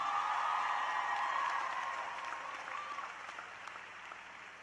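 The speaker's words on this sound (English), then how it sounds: "Round of applause to all of us" Crowd applause at a high school graduation ceremony, dense clapping from many hands that starts strong and gradually fades over a few seconds.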